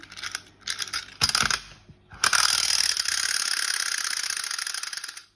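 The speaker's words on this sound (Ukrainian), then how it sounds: "Це у нас черепашка завідна для ванни." A wind-up plastic bath toy turtle is cranked with several clicking ratchet turns, then released so its clockwork mechanism whirs steadily for a few seconds before winding down, close up with no talk.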